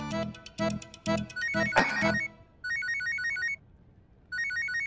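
A mobile phone rings for an incoming call from Priyanka, a bright repeating electronic ringtone melody after a few loud musical stabs, playing alone in two bursts with a short gap between.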